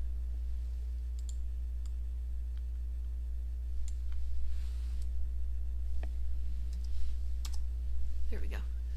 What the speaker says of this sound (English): I'm going to hit S on the keyboard